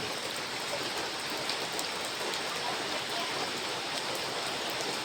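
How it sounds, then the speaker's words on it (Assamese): Steady rain falls heavily and evenly, a dense hiss of drops on surfaces with no voices or other sounds. "এয়া গোটেই বৰষুণ দি আছে"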